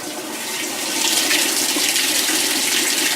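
A top-loading Whirlpool vertical modular washer fills with water during its automatic test mode, a steady, close rush of pouring water that swells slightly and holds throughout.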